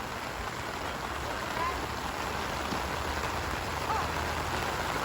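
Rain patters steadily on an umbrella at a rainy outdoor baseball game, a dense, even hiss close overhead that carries on without a break.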